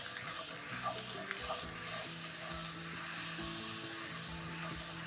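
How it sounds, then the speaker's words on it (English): Carrots and onions sautéing over a low flame in a pan for vegetable fried rice, a soft, fairly faint sizzle with light stirring and a low background hum. "Over low flame, you're going to cook your carrots and onions until soft."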